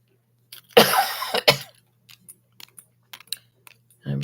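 A person coughs and clears their throat at close range, with a hard burst followed by a couple of shorter hacks, then light clicking and a brief voiced sound in an otherwise quiet room.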